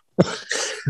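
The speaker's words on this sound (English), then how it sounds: "It made me cough." A single harsh cough bursts out close by, followed by a raspy exhale and the start of another cough.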